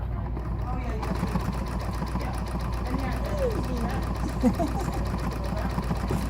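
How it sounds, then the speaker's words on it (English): Rapid, steady chatter of a sewing machine doing micro stippling on a trapunto quilt, running close and continuous while a person talks over it. "Now I can sew tiny stipples, micro stippling in there."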